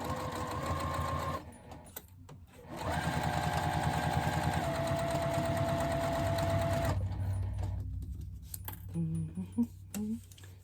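A sewing machine stitches bias binding onto strap webbing in steady rapid bursts with short stops between runs, sounding close and loud, with a few clicks and handling noises near the end.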